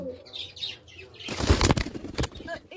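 A pigeon flaps its wings hard while being placed into a cage, giving a loud, close burst of flapping in the middle of the clip, with softer rustling and faint chirps before and after.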